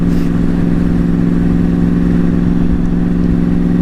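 Sport bike engine running while riding, a loud steady low drone with a constant pitch, close and continuous, no voices.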